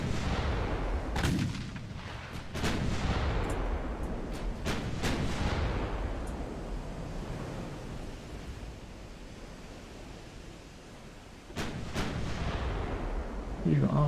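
Naval guns firing in a warship battle game, several heavy booming shots spaced irregularly over a soft background wash, with sporadic talking.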